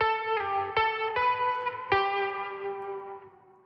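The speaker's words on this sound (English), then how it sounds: "And of course the guitar has its own AB reverb." Guitar notes and chords played through an AudioBrewers AB Vortex 3D modulated reverb, several plucked attacks ringing into a lush, wobbling, pitch-shifting wash that slowly decays; no voices.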